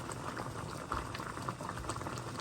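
Old candle wax bubbles in a pot at a steady, close, continuous boil, a dense seething burble with no talking over it.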